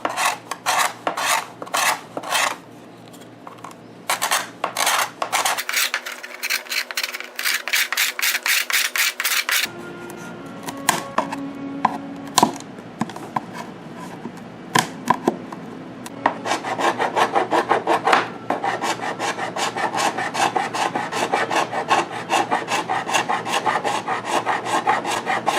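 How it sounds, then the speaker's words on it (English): Curved scrapers rasp across the bare wood of a Gretsch Van Eps guitar body during restoration, repeated rhythmic strokes in bursts, close and crisp with no talking. "now it's time to just scrape with curved scrapers till we can see a clean surface everywhere"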